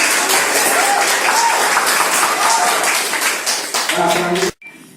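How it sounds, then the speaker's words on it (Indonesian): An audience applauds a presenting group in a classroom or hall, dense sustained clapping from many hands with a few voices mixed in, tapering off and stopping abruptly near the end. "kasih aplaus untuk kelompok 1."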